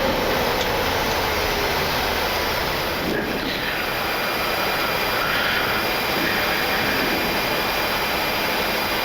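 Widerøe Embraer E190-E2 jet rolling out on the runway after landing with reverse thrust, a loud, steady broadband roar heard from the cockpit that fills the whole clip without letup.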